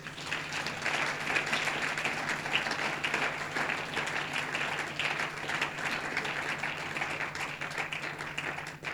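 Congregation at a church seminar applauding together, a dense, sustained wash of clapping that holds steady for several seconds at close range, with no talk over it.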